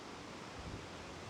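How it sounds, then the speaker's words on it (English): Wind blowing across exposed treetops in woods, a steady broadband rush with a soft rustle, faint and continuous with no voices. "that wind has really started blowing across the tops there"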